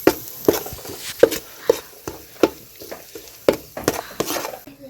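Dried fish fry ingredients with pounded garlic are mixed by hand in a bowl, giving close, rhythmic squishing and gritty rubbing strokes repeating roughly twice a second with no talk.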